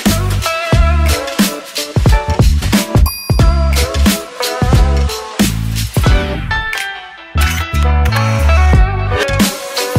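A BTS "Butter"-style pop production in its first version, with sub-bass distortion: punchy, loud drums and heavy distorted bass in a steady groove, with synth layers and no voices.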